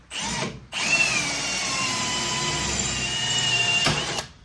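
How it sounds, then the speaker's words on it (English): A standard power drill with a 1/4-inch bit whines steadily at high speed for several seconds after a brief start and stop, with faint metallic grinding as it drills out spot welds on a 1969 Trans Am. "This is just a standard drill, but about a 1/4 inch."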